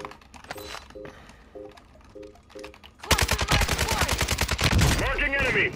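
Rapid automatic AK rifle fire in Warzone 2.0 bursts in loud and close partway through, a dense string of shots following quieter clicking and menu-like beeps.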